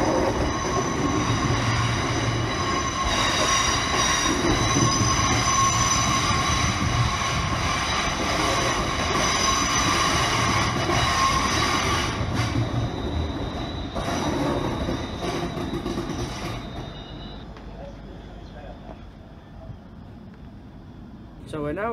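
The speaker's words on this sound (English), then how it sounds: "So we're now on our next train." A passenger train runs along the rails toward Rugeley Trent Valley, a loud, steady rumble with rattling wheels and squealing carriage noise heard from on board. The roar holds throughout and eases somewhat toward the end.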